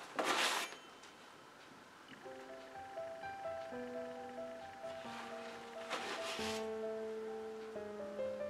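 A palette knife scrapes and smears fluid acrylic paint across a canvas in soft, rasping strokes, with two louder bursts of scraping set against gentle background music.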